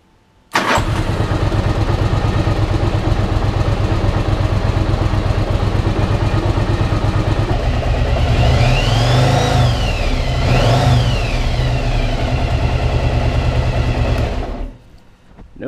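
A 1995 Yamaha Virago XV1100 motorcycle engine starts and idles loudly and steadily at close range, rising in two brief revs near the middle before shutting off.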